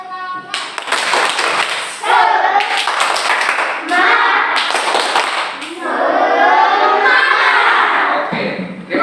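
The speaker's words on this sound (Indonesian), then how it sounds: "Tepuk semangat." Children in a classroom perform a rhythmic spirit clap in bursts of sharp hand claps, with a voice and chanting running through it.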